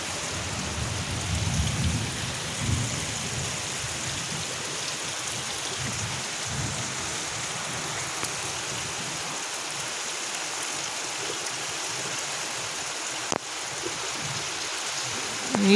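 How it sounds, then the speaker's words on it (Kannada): Heavy first rain of the year pouring steadily on a village, a dense continuous hiss with a low rumbling patch early on and a sharp crack near the end, no talking. "ನೋಡಿ ಮಳೆ ಸಖತ್ ಜೋರಾಯಿತು."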